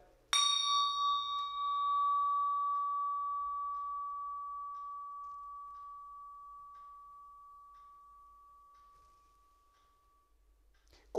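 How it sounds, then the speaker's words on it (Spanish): A single bell struck once, ringing out a clear, pure sustained tone that fades slowly over about ten seconds, alone in a quiet room. "Y también sonidos como las campanas tibetanas,"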